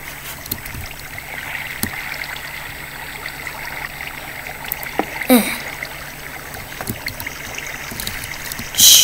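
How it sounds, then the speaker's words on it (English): Steady, moderate flowing and trickling water in a video game, with occasional clicks and thumps over it, and no talking. "now all of the water is flowing in here"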